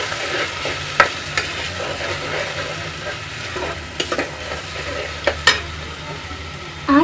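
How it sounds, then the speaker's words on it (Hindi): Onion, ginger and garlic paste fries in a pan for a Punjabi-style potato and eggplant dish, a steady close sizzle broken by several sharp spoon scrapes and knocks as it is stirred. "प्याज अदरक लहसुन की पेस्ट को अच्छे से भूनेंगे"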